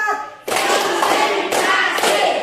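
A classroom of students performs the tepuk 4 clapping chant, a dense, loud burst of hand claps that starts abruptly and carries on with sharp accented beats near the end.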